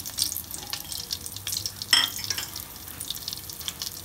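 Panch phoron spice mix and four or five green chilies sizzle in hot oil for fish with mustard-poppy paste, a steady close crackle with a brief louder pop midway and no voices.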